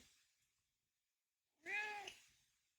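A single short meow from a house cat, fairly clear and close but quiet, following a stretch of near silence.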